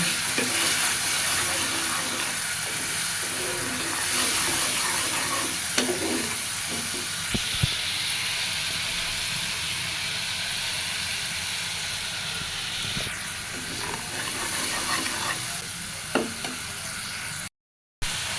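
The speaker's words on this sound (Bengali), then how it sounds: "সামান্য পরিমাণে জল দিয়ে মশলাটা কষায় নেব।" Spice paste sizzles steadily as it is stir-fried in a pan with a splash of water, a continuous hiss running throughout with occasional scraping stirs.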